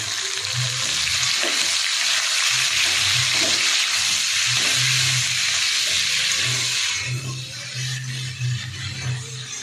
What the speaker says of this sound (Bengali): রসুনগুলো একটু ভাজা ভাজা হয়ে যাবে